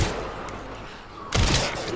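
Pistol shots fired by Leon in the survival horror game Resident Evil Requiem, a sharp loud burst of gunfire after a quieter stretch, ringing out briefly.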